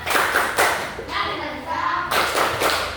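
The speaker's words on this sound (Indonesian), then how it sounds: "tepuk semangat dulu" A classroom group performs a rhythmic spirit clap, loud unison hand claps in short bursts with a brief pause between them, and voices mix in alongside.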